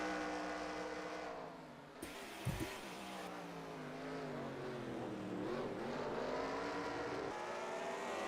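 Race cars power down off the start on a Chicago street course, engines revving and rising in pitch with brief tire spin, heard from a moderate distance and fairly faint.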